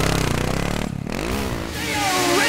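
Racing snowmobiles on a Wisconsin snocross track, loud high-revving two-stroke engines droning nearby, then shifting pitch as the sleds pass and climb a hill.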